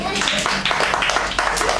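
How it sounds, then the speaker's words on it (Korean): A brief round of audience applause at a church teaching session, steady close clapping filling the short moment with a low murmur underneath. "박수 한번."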